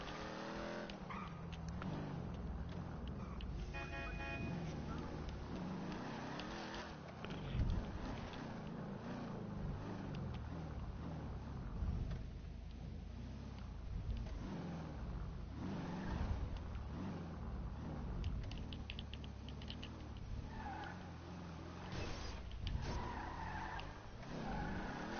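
A car driven in GTA 5 skids and revs continuously, tires squealing and the engine roaring loud and close throughout, with no voices over it.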